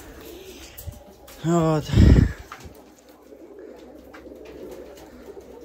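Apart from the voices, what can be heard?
pigeons cooing, feather-footed breed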